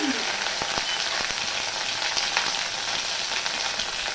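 Ginger paste hits hot oil with a finished spice tempering for an onion- and garlic-free vegetarian kofta curry, giving a steady, loud, close frying sizzle with crackling pops that holds throughout, with no talking.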